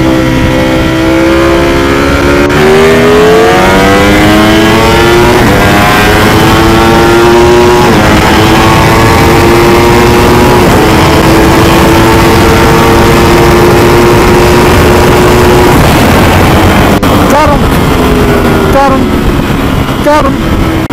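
A Ducati V4 Speciale and a BrenTuned BMW S1000RR superbike race flat out. A loud, close, high-revving engine wail climbs in pitch through several upshifts, then holds a steady scream before sharper shifts near the end.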